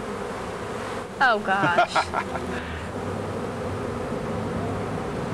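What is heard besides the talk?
honey bees swarming around beekeeper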